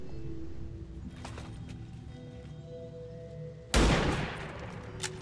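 A single sharp, loud gunshot bursts out near the end of a steady background hum in XCOM 2, fired at a turret, with a short tail of noise after the blast.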